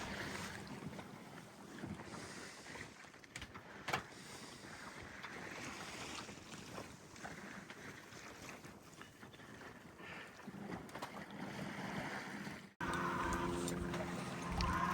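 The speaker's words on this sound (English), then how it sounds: "It's really nice to get to do some sailing." Freedom 28 sailboat under staysail and mainsail on saltwater, with steady wind buffeting the microphone and water rushing along the hull, continuous and close, briefly changing character near the end.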